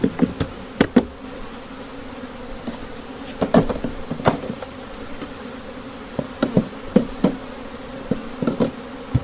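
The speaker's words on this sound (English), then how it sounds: "I'll shake those bees off." Honey bees buzz around an open beehive as frames are handled while a honey box is added. A dense, steady hum is broken by sharp knocks and taps from the hive woodwork nearby, and no one speaks.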